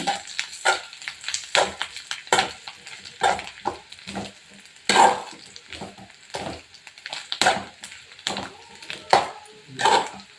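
Curry leaves frying in a pan while being stirred, a steady sizzle broken by repeated scraping strokes of the spoon, close and fairly loud, with no talking.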